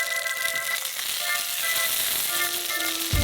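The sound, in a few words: sausage frying in a frying pan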